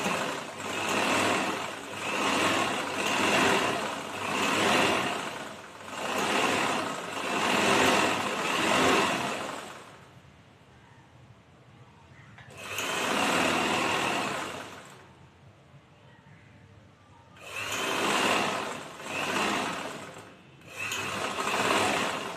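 Sewing machine stitching a side seam on a chudithar, loud rapid mechanical whirring in several long runs separated by short pauses, close up with no talk.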